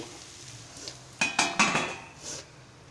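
A metal plate set down over rice-flour ghavane cooking on a hot tava, a few sharp metallic clanks and clinks in quick succession, close and clear, then a soft fading hiss.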